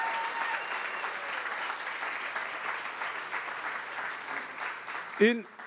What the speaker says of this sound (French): une grande main d'applaudissements pour tout le comité organisateur